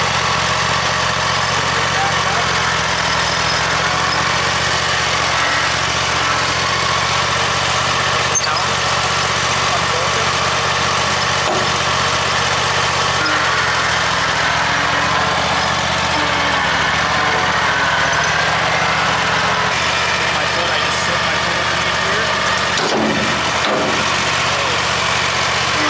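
A Q850R RedMagic stand-on bagging mower's engine runs at a steady idle for the whole stretch, a constant loud drone with no clear changes in pitch.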